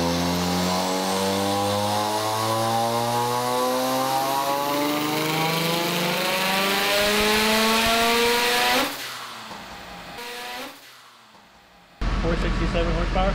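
A turbocharged rotary-engined Corvette climbs through a long, loud wide-open pull on a dyno, its pitch rising steadily before the throttle drops to a lower idle, then a brief surge; voices are audible near the end.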